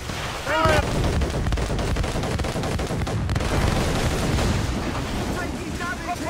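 Heavy mortar and cannon fire in the naval game Assassin's Creed Rogue, a dense rumbling barrage of booms running steadily throughout, with a brief shouted voice near the start and faint voices later under the blasts.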